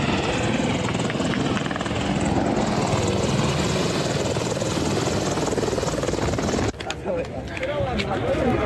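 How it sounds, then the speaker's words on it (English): U.S. helicopter rotors thud loudly overhead in a steady, continuous drone, with crowd noise and voices beneath at an airport; the roar dips briefly near the end. "U.S. helicopters trying to scare people."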